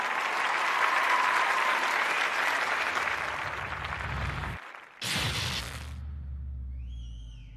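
A live crowd at a mixed martial arts cage-fighting event applauds loudly and steadily as a fighter from China is introduced. The applause breaks off briefly, surges again, then fades under quieter tones.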